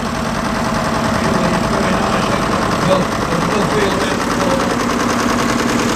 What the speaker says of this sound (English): the tractor with the Morris front engine in there